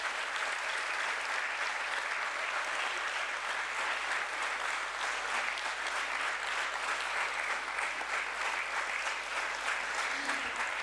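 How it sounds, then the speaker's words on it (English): A large crowd claps steadily at a stock exchange listing ceremony in a hall, a dense, unbroken roar of applause holding at an even level from start to finish. "let's have a thunderous round of applause for Amagi Media Labs Limited"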